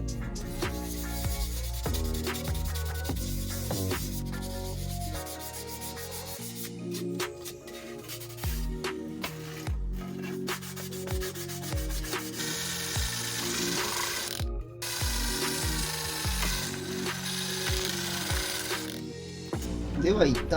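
Sponge sanding file rubbed over the body of an Aoshima GRS 202 Crown police car scale model for fine finishing, a continuous close scratchy rubbing with strokes and brief pauses over a low background.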